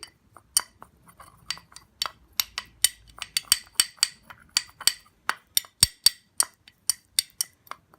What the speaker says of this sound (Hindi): कोकोनट ऑयल डालेंगे और इसे मिक्स करेंगे।